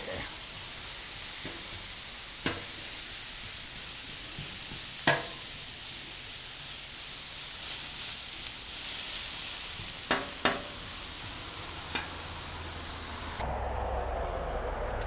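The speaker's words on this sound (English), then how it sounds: "I'm cooking the moisture out of the onions right now" Onions spread across a flat griddle sizzle steadily for smash burgers, a broad, even hiss with a few sharp scrape-and-clack spatula hits, close and alone with no talk.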